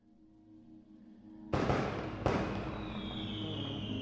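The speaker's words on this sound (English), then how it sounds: "Fireworks?" Two sharp firework bangs burst out a moment apart over a low background hum, each followed by a lingering crackle.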